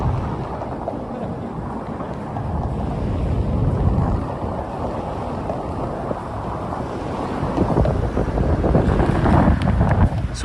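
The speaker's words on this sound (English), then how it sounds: "It's going to be very windy up here," Strong wind buffets the microphone outdoors, a loud, continuous low rumble that swells and gusts throughout with no speech over it.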